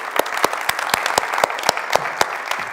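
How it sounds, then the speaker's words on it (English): Applause at an aviation festival greeting the Pegasus Airlines CEO, heard as a run of sharp, evenly spaced claps, close and fairly loud with a light crowd wash between them. "So nice round of applause."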